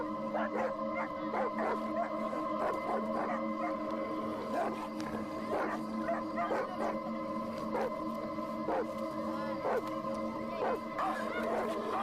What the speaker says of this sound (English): With sharp claws and powerful teeth, the dogs are formidable enemies.